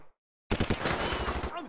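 Gunfire in the Android shooter Fusion War: after a brief silence, a dense, sustained burst of rapid automatic shots fills the mix, loud and close, trailing off at the end.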